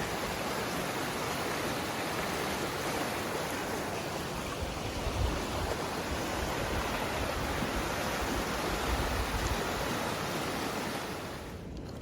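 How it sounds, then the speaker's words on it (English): Continuous rushing water of a fast-flowing creek on the Appalachian Trail, close and steady, a broad hiss with low gurgles, easing slightly at the very end. "That water's flowing good."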